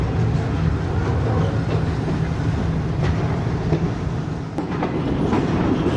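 The Pak Business Express passenger train rumbles steadily over a double diamond crossing near Rohri Junction, with a loud continuous roll and rhythmic clickety-clack of wheels heard from inside the coach.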